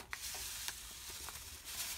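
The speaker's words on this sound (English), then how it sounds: "we're just frying it" Dried coconut powder and poppy seeds fry in a pan with a soft, steady sizzle, broken by a few light stirring scrapes, close and quiet with no talking.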